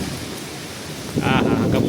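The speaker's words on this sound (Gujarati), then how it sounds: "ઝીણો ઝીણો ઝીણો ઝીણો વરસાદ, જોરદાર પવન સાથે" Light rain driven by strong wind in the middle of Morbi city, a steady broadband wash that swells louder near the end, with no talk over it.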